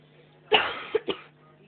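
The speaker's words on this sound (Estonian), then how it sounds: "Ma vist olen haigeks jäänud, sest ma köhin kogu aeg" A single person coughs a few times close up: one strong cough followed by two shorter ones, with no talking.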